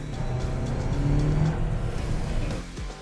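A Volkswagen Tayron R-Line seven-seat SUV pulls away under hard acceleration, its engine note loud and steady from the cabin for about three seconds and then dropping away sharply at the end. No one speaks.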